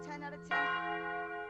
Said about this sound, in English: I think I heard the bells ring.